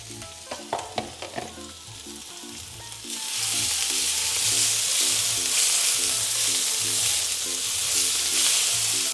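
Garlic and chopped celery hit hot oil for fried rice, bursting into a loud, steady sizzle after a few sharp utensil clanks and light stirring, with a low hum running underneath throughout.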